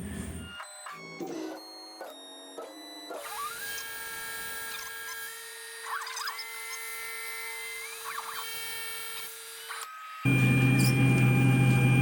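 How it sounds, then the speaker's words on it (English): A CNC machining spindle whines at a steady pitch as an end mill plunges holes in a knife handle, broken by short stepped tones at first, then a sustained cutting drone that shifts louder near the end. "I'm just gonna use an end mill and just plunge"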